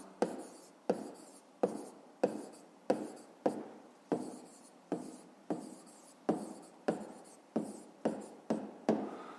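A pen writes on paper in a rapid rhythmic series of about fifteen short scratchy strokes, each a crisp close attack fading quickly, repeating evenly with no voice.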